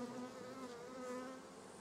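A steady, dense hum of many honeybees buzzing close by at a trap hive in a garden apiary, continuous and even with no voices.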